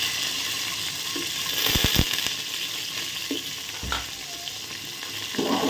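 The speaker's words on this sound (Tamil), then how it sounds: "இப்போ வெங்காயம் கொஞ்சம் வதங்கிட்டு வருது. இந்த கேப்பில் வந்து நம்ம ஒரு 10-15 பூண்டு வந்து போடுவோம்." Onion and about 10-15 garlic cloves sauté in a pan for dal rice. A steady close sizzle and fry run throughout, with a few sharp utensil scrapes and taps against the pan.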